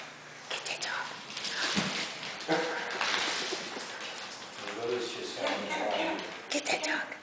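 A young dog fitted with a dog wheelchair whimpers and yips softly at a quiet outdoor gathering, while people chat nearby and partly cover the thin, intermittent cries.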